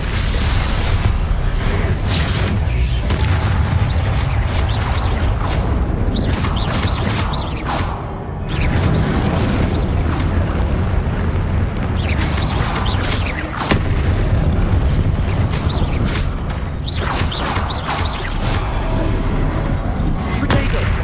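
Hogwarts Legacy game combat with repeated Confringo blasting-spell explosions: dense, continuous booming bursts and crackling impacts layered over game music, loud throughout with a brief dip midway.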